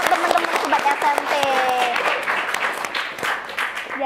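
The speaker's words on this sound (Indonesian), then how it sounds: "Boleh tepuk tangan dulu dong teman-teman Sobat SMP." A school audience of junior high students claps in a dense patter that holds steady for several seconds, with a voice talking over it.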